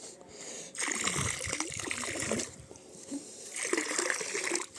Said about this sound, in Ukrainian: Наливаю по периметру.